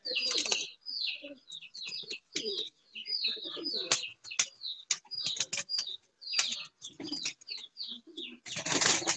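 Loft pigeons in a rooftop coop, a flock kept about 15 to 20 years, fill the air with dense, continuous cooing and chirping, with a burst of wing flapping near the end; no voices are heard.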